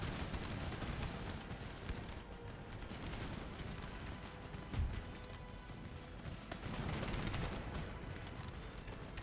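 Cannon artillery fire from the Empire: Total War video game, a dense, continuous barrage of booming shots and rumbling impacts that runs throughout at steady loudness, with one sharper thump near the middle.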